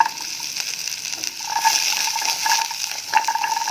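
Spices with galangal, turmeric and candle nut sautéing in a pan, a steady close sizzle and hiss with faint scraping and stirring clicks throughout.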